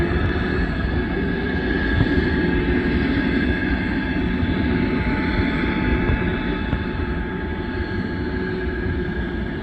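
An Atlas Air Boeing 777 jet, registration N703GT, landing in windy conditions on runway 15 at Ted Stevens Anchorage International Airport; a loud, sustained engine roar and rumble that holds steady without talk.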